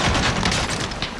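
Dense, continuous gunfire and booming impacts from the video game Call of Duty: Modern Warfare, with bullets tearing through a building, a loud unbroken roar of shots filling the whole moment.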